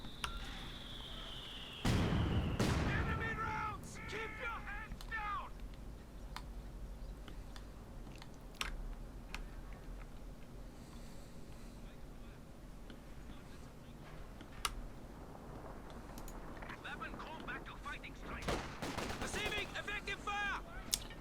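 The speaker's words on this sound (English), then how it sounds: "So yeah, here it is doing its barrage." Artillery barrage in Company of Heroes 2, a 1v1 match, with a loud booming burst early on followed by scattered distant explosions and gunfire cracks over a low battlefield rumble.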